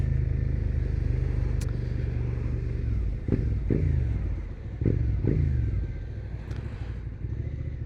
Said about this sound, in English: when I'm revving along in traffic, I'm not trying to be rude.